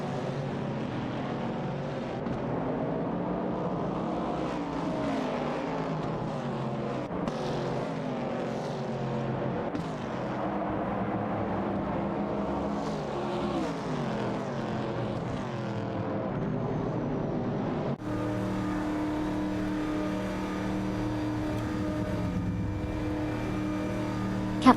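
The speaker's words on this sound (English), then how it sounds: "Meanwhile, One Serious Guy is showing impressive pace as well, overtaking 5 cars and moving up to 12" Race car engines in an AI racing video game, a continuous layered drone of several engines revving and shifting pitch as cars pass and overtake, with no talk.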